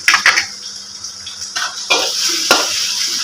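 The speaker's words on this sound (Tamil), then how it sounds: "இப்போ இதில் வந்து நம்ம சின்ன சின்னதாக வெட்டி வச்சுக்கிற வெங்காயத்தை முதல்ல சேர்த்துக்கலாம்." Chopped onions hitting hot oil in a pan, a soft steady sizzle with a few clinks of a utensil stirring and scraping, fairly close.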